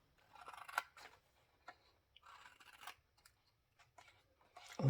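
Scissors snip notches into card stock in a series of short, crisp cuts with pauses between, close by and quiet, with a brief louder bump at the end.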